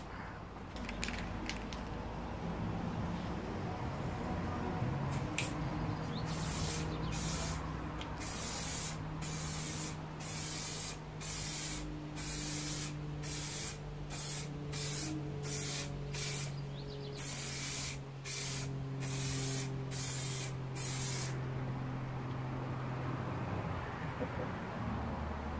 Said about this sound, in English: then I can go for a grey primer coat